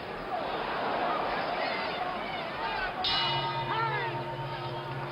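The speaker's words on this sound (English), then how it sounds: "The bell coming up." At a Joe Frazier versus Muhammad Ali boxing match, the round bell rings out once over a loud, roaring arena crowd while voices carry on underneath.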